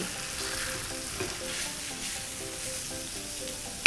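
Thai instant noodles stir-fried with bacon in a hot pan, a steady close sizzle and crackle with light scraping stirs throughout, no talking.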